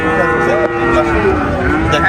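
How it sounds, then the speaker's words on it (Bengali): A Holstein Friesian heifer gives one loud, close, drawn-out moo that fills the whole moment, with a low hum of a cattle farm behind it. "এটা হলিস্টাইন ফ্রিজিয়ান গরু, রেডি গরু ভাই"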